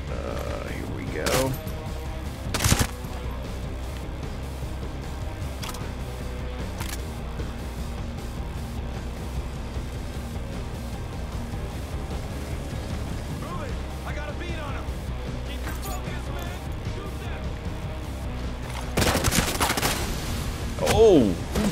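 Gunfire in Ghost Recon Breakpoint: a couple of sharp isolated shots early, then a dense burst of rapid firing near the end, over a steady rumble of game ambience and mechanical clicks, with someone talking throughout.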